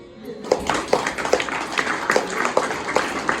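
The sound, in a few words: children clapping hands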